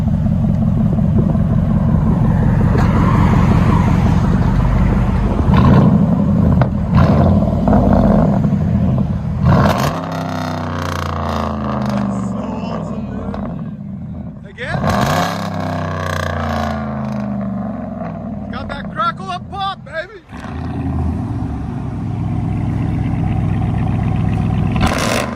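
Car engine rumbling through aftermarket exhaust tips, loud and close, with a deep idle interrupted by several throttle blips that rise and fall before the engine settles back to idle.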